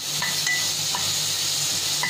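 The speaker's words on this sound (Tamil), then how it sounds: "வெங்காயம் கொஞ்சம் வதங்கட்டும்" Sliced onions with salt sautéing in a pan for wheat noodles give a steady close sizzle and hiss, broken by a few light scrapes of the stirring utensil.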